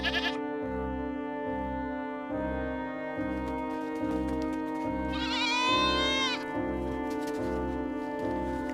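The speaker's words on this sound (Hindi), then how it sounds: "बेचारा रामू भूखे पेट ही उदास होकर बकरियों को जंगल की ओर ले जाता है।" Cartoon goats bleat in a Hindi animated story, a repeated wavering bleat over a looping rhythmic music bed, with one long loud quavering cry near the middle.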